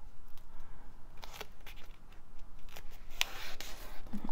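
Book-page paper being folded for a junk journal, soft crinkles and a few sharper creasing rustles close by in a quiet room.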